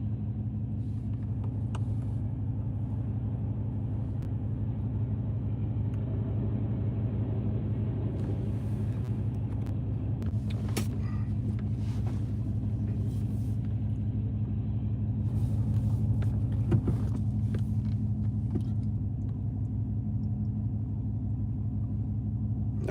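Inside a moving car on a road trip, a steady low engine and road rumble drones without a break, with a few faint rattles and knocks.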